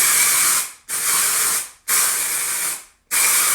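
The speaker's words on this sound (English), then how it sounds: "and then I just spray my face." Living Proof dry shampoo sprays from an aerosol bottle onto a face in three long, loud, close hissing bursts, each about a second long with a brief silent gap between them, and a fourth burst begins at the end.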